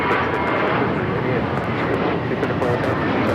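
A Turkish Airlines Airbus A350 takes off from runway 24 left at Los Angeles airport, producing a loud, steady, broadband engine roar with a voice talking over it.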